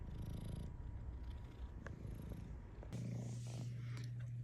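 Little kitten Sebastian purrs steadily up close, a continuous low rumble with soft rustling and handling noise around it.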